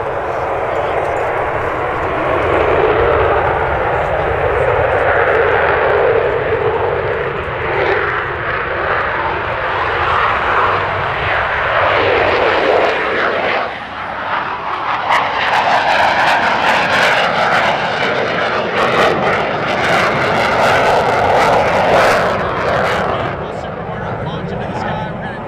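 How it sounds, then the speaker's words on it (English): An F-18 Super Hornet roars on a runway during takeoff, a loud, dense engine rumble that swells and grows harsher in the second half, lasting throughout. "the F-18 Super on the left side of the runway is about to take off now"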